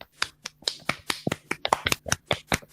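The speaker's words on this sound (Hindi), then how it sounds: "सत्येंद्र के लिए तालियां" A small group claps at a COVID vaccination campaign event, sharp distinct claps in a quick, uneven rhythm, close and fairly quiet, with no talking.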